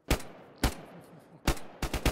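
Gunshots in the DayZ survival video game crack out in four sharp, loud bursts, with the last two coming close together, over near silence between shots.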